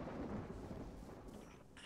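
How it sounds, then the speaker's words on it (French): Thunder from a storm in the video game Destiny rumbles low and steady beneath faint rain, briefly and without speech. "L'orage commence à vous connaître."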